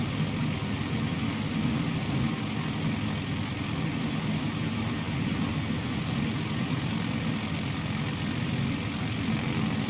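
Steady aircraft engine drone in Microsoft Flight Simulator as the throttle is pushed up after touchdown, a continuous loud mid-low roar holding for the whole stretch with no talk over it.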